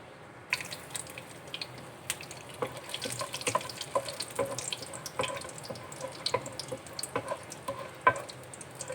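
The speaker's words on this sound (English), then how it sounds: "I'm going to throw in the dry spices." Dry spices sizzle and crackle in heated oil while a chicken curry cooks, a steady hiss dotted with sharp pops, close and fairly quiet.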